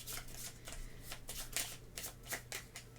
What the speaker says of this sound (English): so we will shuffle these up